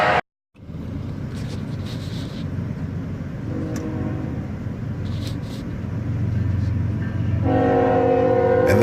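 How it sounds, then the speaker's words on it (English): SD70ACE locomotive leading a passing train, a loud continuous rumble of engine and rolling wagons close by, with a blaring horn sounding near the start and again toward the end. "An SD70 Ace leads, my favorite of the modern locomotives."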